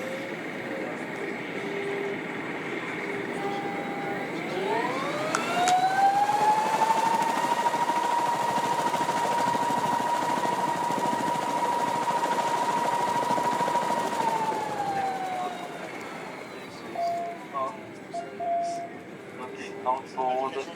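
The electric motors of the Solar Impulse solar airplane spin up together to full power, a rising whine that holds a steady high tone for several seconds, then winds down, with people talking alongside.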